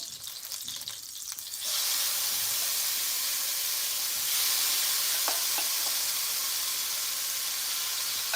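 Shrimp sizzling in a thin layer of leftover bacon grease in a pan, a steady bright hiss that swells after a quiet start and holds loud and even, with a few small pops and no talking.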